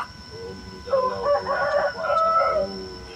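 A rooster crows once, a loud drawn-out cock-a-doodle-doo rising and falling over about two seconds against a steady background hum.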